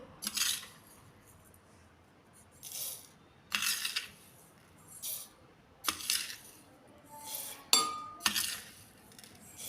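Several separate bursts of flaxseeds pouring and pattering into a hard mixer jar, with occasional light clinks, close and fairly quiet between pours.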